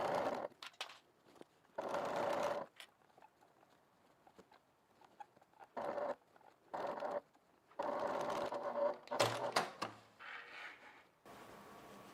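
A sewing machine stitches seams on an evening bag in several separate bursts of a second or two each, with pauses between runs and light handling noises in the gaps.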